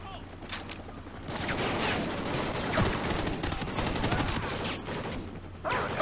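Gunfire in the Call of Duty Ghosts campaign, a dense continuous fusillade of rapid shots and battle noise, loud and steady throughout.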